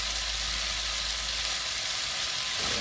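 Shrimp stir-fried with garlic and shallots in a hot pan gives a steady, close, loud sizzle with a continuous hiss and no talking over it.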